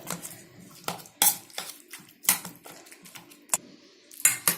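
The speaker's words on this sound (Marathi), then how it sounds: "त्याला छान स्मॅश करूया। जरा गरम आहे म्हणून चमच्याने करते" A spoon mashes hot roasted eggplant in a bowl for smoky baingan bharta, giving a series of sharp, uneven taps and scrapes against the dish, close and separated by short quiet gaps.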